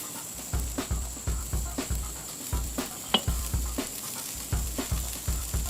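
Bacon-wrapped appetizers sizzle over a hot charcoal grill, a close, steady crackle with rhythmic pulsing pops and a constant high hiss throughout.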